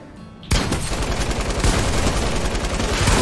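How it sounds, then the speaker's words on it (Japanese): Gunfire in the Fortnite video game: a dense, continuous volley of shots starts abruptly after a brief quieter lead-in and keeps up loud and steady to the end, with no talk over it. "なんかこっちの方でも銃声しましたよね"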